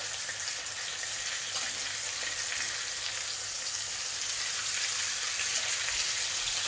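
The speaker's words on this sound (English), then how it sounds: "So our steak has been sealing for about 3-4 minutes now" Steak sears in a hot pan with a steady, even sizzle that holds constant throughout, close and moderately loud with no voices over it.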